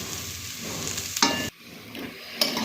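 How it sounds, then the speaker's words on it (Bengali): Flattened rice pulao with fried vegetables and ghee stirred in a pan, a soft sizzle with two sharp clinks of the spoon against the pan and a brief dip in between, close by and with no voices. "ঘি দিয়ে ভালোভাবে মিশিয়ে দিচ্ছি"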